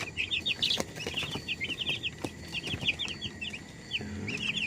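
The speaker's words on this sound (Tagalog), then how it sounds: "Yan yung ating 5 days old na chichiw." Five-day-old Cobb 500 broiler chicks chirp in rapid, high-pitched bursts throughout, with scattered soft knocks and rustling in a quiet pen.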